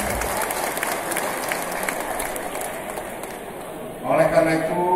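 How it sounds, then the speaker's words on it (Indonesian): Applause from a crowd at an outdoor political rally of volunteers in Lampung, Indonesia, a steady wash of clapping that runs for several seconds before a voice cuts in over it near the end. "Tepuk tangan."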